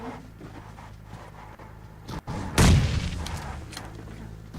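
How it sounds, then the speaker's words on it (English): Grenade explosion in a video game, a single loud booming blast partway through that rings out and fades over a low background rumble, preceded by faint thumps. "they're throwing nades towards each other"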